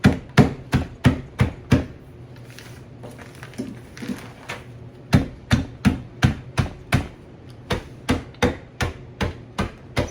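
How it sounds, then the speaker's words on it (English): Nuts are chopped by hand with a knife on a board for bread dough, sharp loud chops landing in quick even bursts of about five or six, each run broken by a short pause. "I'll be sitting here all day trying to chop these nuts"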